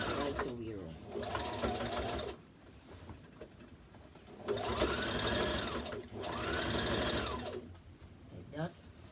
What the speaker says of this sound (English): you're gonna stitch one row stitch right the way around.